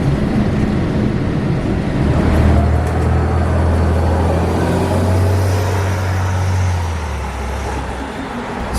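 Inside a city transit bus in Southern California, the engine and road noise form a loud steady rumble, with a low engine tone rising and holding as the bus accelerates, then easing off.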